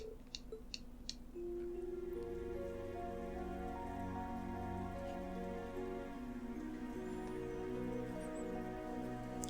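Light, sprinkling rain in the video game Trails of Cold Steel 3 patters softly beneath a sustained, gentle musical score, with a few crisp ticks early on.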